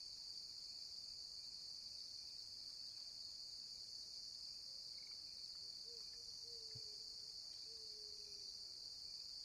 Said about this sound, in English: So it's crickets.